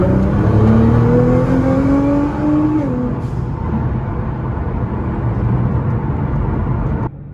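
A Nissan GT-R engine with a flashing check engine light drones steadily with a rising whine that dips after a shift, then a constant road roar until an abrupt drop near the end.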